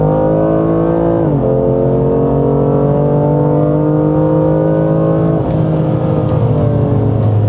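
A 2019 BMW F87 M2 Competition revs hard on a racetrack, its loud, close engine holding a steady high whine that dips briefly with a gear change, then climbs again, with no talk.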